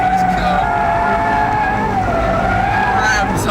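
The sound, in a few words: turbocharged Ford Focus race car accelerating through hairpin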